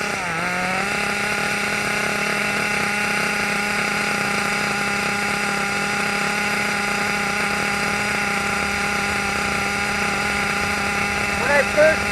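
Steady high-pitched buzzing drone of a Kyosho nitro RC car engine idling after break-in, constant and close throughout with a brief revving blip near the end.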